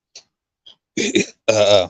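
One loud, close burp rumbles out near the end, after a few soft mouth clicks and a short throaty sound, with no other noise around it.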